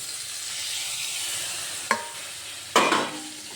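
Masala for pointed gourd stirs and fries gently in a pan over low gas, a soft steady sizzle broken by two sharp scraping knocks of the spoon near the end.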